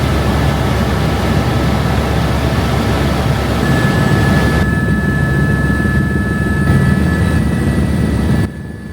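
Tour helicopter flying over an Alaska glacier, its engine and rotor making a loud, steady, unbroken roar that drops slightly in level at the very end.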